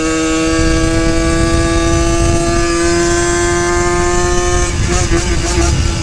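A Yamaha YSR50 mini street bike engine idles steadily, its buzzy two-stroke drone holding up close throughout.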